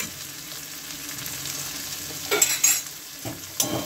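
Ash gourd and shrimp with cumin paste and spices sizzle in a pan under a spatula, a soft steady frying hiss broken by a few louder stirring scrapes near the end.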